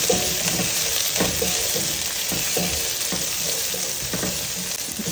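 Onions sizzle and fry steadily in a pan for a sambar made with besan flour while a spoon stirs them at intervals with soft scrapes, close and continuous, with no talking.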